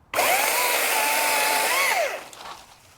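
An Echo eForce battery-powered electric lawn tool whirs up sharply, holds a steady high-pitched motor whine for about two seconds with a brief pitch dip, then spins down and fades.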